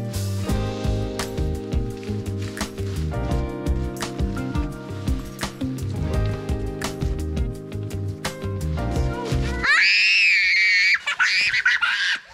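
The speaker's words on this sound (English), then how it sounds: "the way that girl Agent Hummingbird screams, you think somebody was dying" After a stretch of music, a dog lets out a shrill, wavering scream for about two seconds after slipping out of its collar at a lakeside campsite at Goose Lake, Washington, loud and close.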